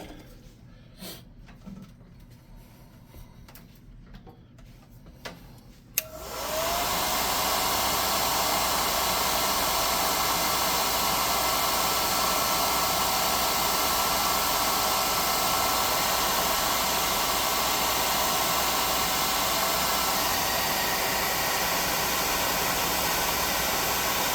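A hair dryer blows on a freshly painted Wizkids rabbit-folk tabletop miniature, clicking on after a few quiet handling taps and then roaring in a loud, steady, close whoosh that runs without a break.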